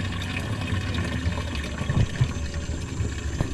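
Water pours and splashes into a container as drinking water is collected in a rural province, a continuous trickling fill with faint mechanical hum beneath.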